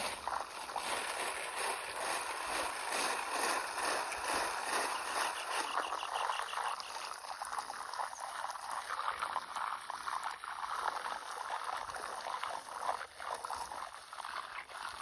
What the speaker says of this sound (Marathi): मग मारून तर घ्यावंच लागलं पाणी